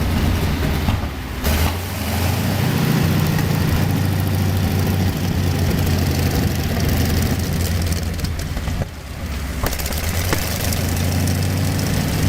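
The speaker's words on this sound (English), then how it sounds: "they chose the R975 Radial, an aircraft engine brought down to Earth" Wartime R975 radial aircraft engine, the type fitted to Sherman tanks, runs loud and close with a steady low rumbling drone and knocking beat, briefly dipping twice before settling back into its heavy idle.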